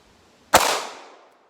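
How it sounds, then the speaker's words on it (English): A Glock 34 pistol fitted with a Flux Defense brace fires a single sharp shot at a 25-yard range, heard at moderate distance with a short decaying echo afterward. "we will try it here and use it with the Glock 34 Flux Defense."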